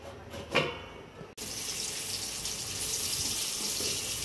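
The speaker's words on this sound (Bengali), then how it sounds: "আপনারা যতটুক চাল এবং ডাল নেবেন তার ডাবল পরিমাণ জল দেবেন।" Water pours for chicken khichuri onto rice and lentils in a pot. After a brief clink, a continuous, fairly soft, close rushing flow begins and holds steady.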